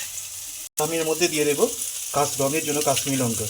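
Spice paste sizzles and fries in a hot pan with a steady crackling hiss while a person talks over it throughout.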